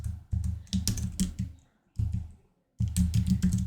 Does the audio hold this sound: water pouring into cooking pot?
no